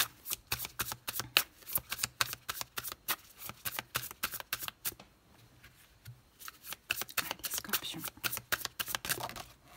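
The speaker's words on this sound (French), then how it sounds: "c'est parti pour le tarot astrologique. On va poser les 6 cartes." Tarot cards shuffled repeatedly in quick riffling bursts, close and crisp, with a short pause midway before the shuffling resumes; a voice speaks faintly beneath.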